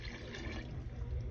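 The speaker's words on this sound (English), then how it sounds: "So now that I got my bouillon cubes all dissolved, I'm ready for my water." Water pours steadily into a pot of French onion soup broth with dissolved bouillon cubes, a continuous close rushing splash lasting over a second with no talk.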